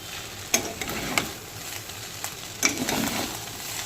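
Egg chicken chow mein with tomato ketchup is stirred in a hot pan at a street-food stall, with a steady sizzle broken by a few sharp scraping strokes of the spatula.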